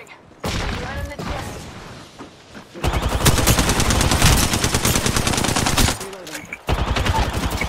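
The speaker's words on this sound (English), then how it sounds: "Taking fire. Opening fire." Automatic weapon fire in Apex Legends rattles in dense, loud bursts, with short pauses between volleys and occasional booms, while players talk over it.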